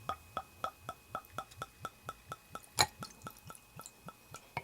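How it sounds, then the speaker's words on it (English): Wild Turkey bourbon free-poured from the bottle into a glass packed with ice, producing a steady run of close, rhythmic glugs and drips, with a single sharper clink near the end. "I don't know how much I'm pouring, just free pouring here."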